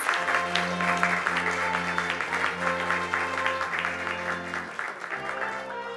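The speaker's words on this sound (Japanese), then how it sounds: "皆様拍手をお願いいたします" Audience applause at a Japanese agricultural newspaper advertising awards ceremony, steady clapping from a seated crowd over a humming hall, tapering as a sustained tone drops out near the end.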